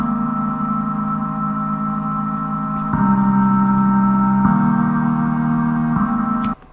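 A custom Symplant synthesizer patch plays steady sustained tones with a faint airy hiss, shifting pitch in blocky steps about every second and a half, then cutting off abruptly near the end; no talk.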